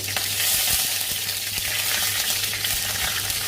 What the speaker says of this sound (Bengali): কাঁচা লঙ্কাগুলো আমি এরকম 2 ভাগ করে দিয়ে দেবো। টকবক করে ফুটবে কিন্তু, একটু সাবধানে।